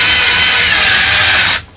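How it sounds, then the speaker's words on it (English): A power drill spins a toilet auger spindle at low speed while clearing a drain at a T-junction pipe, a steady close, loud mechanical whir that holds evenly and then cuts off near the end. "by going backwards and forwards with the drill"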